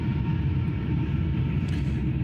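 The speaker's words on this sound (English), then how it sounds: "that's a train." A passing train heard as a steady, heavy low rumble, moderately loud and unbroken for the couple of seconds shown, with no voices over it.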